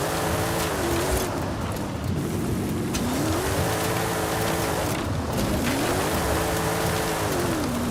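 A heavy car drifting around corners in Forza Horizon 5: a loud engine revving up and easing off in repeated swells, with constant hissing tyre and road noise throughout and no talk.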